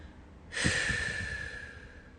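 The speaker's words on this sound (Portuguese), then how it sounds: "E solta pela boca, soltando os ombros." A single long, deep breath is exhaled through the mouth during a guided breathing and relaxation exercise. The close, airy whoosh starts abruptly, then slowly fades over about a second and a half, with no talking.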